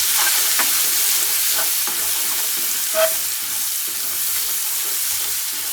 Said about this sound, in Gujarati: તેલ ગરમ થઈ ગયું છે તો ઉપરથી નાખીશું જીરું, હિંગ, આદુ લસણ અને મરચાની પેસ્ટ